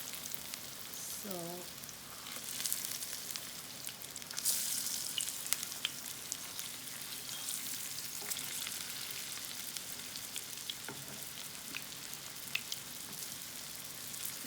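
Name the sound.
falafel frying in oil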